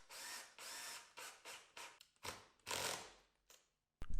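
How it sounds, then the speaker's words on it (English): A power drill drives screws through D-rings into the wooden side pieces of a picture frame in short separate bursts, each a whirring spin that stops abruptly, with a sharp knock at the end. "I pre-drilled and then installed the screws."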